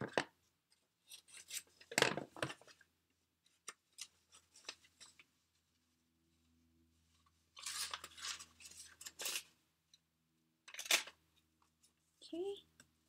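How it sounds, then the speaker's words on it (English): A Fiskars scallop paper shaper punching through paper while making flowers, giving several short crisp crunching bursts spaced apart with brief pauses, close and fairly quiet, with soft handling noises between them. "So I'm going to use this Fisker"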